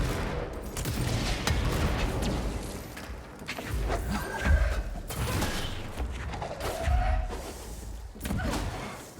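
In the video game Control, an enemy's ground slam lands among repeated loud thuds, bursts of gunfire and rumbling impacts across a chaotic fight, with brief voice fragments.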